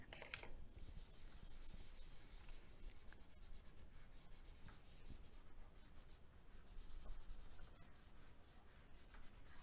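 A colored pencil rubs back and forth across paper while coloring in a drawing of a pumpkin pie, making close, continuous scratchy strokes in steady bursts.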